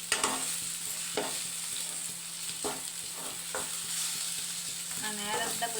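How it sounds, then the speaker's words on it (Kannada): Egg rice fries in a pan over low gas with a soft, steady sizzle, broken by repeated scraping strokes of a spoon stirring the rice, quiet and close. "ಸ್ವಲ್ಪ ಗ್ಯಾಸ್ ಕಮ್ಮಿ ಇಟ್ಕೊಂಡು ಫ್ರೈ ಮಾಡಿ"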